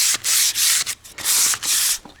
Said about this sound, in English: anywhere we took off bare timber, needs a light sand